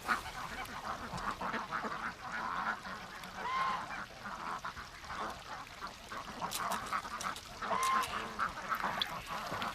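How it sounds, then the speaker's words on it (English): Toulouse geese honk in repeated bursts outdoors, several loud calls overlapping at close range over about ten seconds. "These are Toulouse geese."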